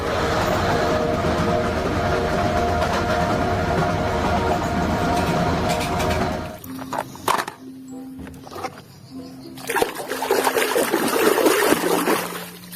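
A toy high-speed train runs with a steady, loud mechanical whirring rumble for about six seconds, then cuts off, followed by quieter scattered clicks and short beeping tones.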